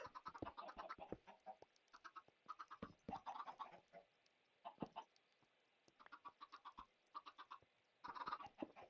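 Chickens in Minecraft cluck in quick, overlapping bursts, several birds close by, short staccato calls coming in irregular clusters with brief quiet gaps.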